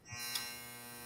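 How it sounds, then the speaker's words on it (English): A clothes dryer running in the next room produces a faint, steady mechanical hum with a low tonal drone and a soft brief bump, distant and continuous with no talk. "That's the dryer is in the next room."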